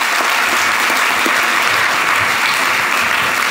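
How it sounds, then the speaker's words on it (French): An audience at an annual evening event claps steadily, a dense, loud wash of applause that holds unbroken for several seconds. "Merci, on vous applaudit encore une fois"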